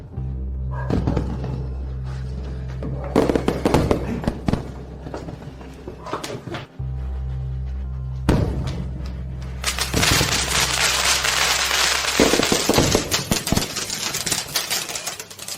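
Fireworks and firecrackers bursting in rapid crackling volleys, loud and dense, with sharp bangs that swell into a continuous barrage toward the end over a steady low hum of background music.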